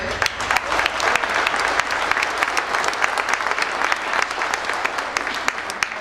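Sustained applause from a live audience at a Miss Mayhem pageant in 2013, greeting a contestant, with dense clapping at steady volume and a few cheers mixed in.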